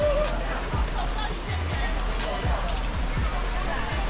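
A waterfall in a clear canyon stream pours steadily near a campsite, a constant broad rushing wash of water with faint voices underneath.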